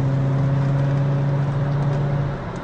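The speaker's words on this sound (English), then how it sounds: "You got that nice note from the exhaust." A VW Golf R32 Mk4 with a Milltek exhaust drives along a road with long sweeping bends, its engine giving a steady low droning hum at constant revs that eases off slightly at the end.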